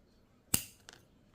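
A single sharp snip as pliers or cutters cut through the tie holding a rusty coin on a tribal-style belly dance belt, with a faint metallic click just after. Close and brief, with no talking.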